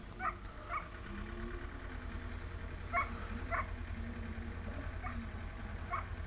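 Puppies on a snowy, muddy farm near hay give short, faint yips and whimpers at irregular intervals, sounding somewhat distant over a steady low background hum.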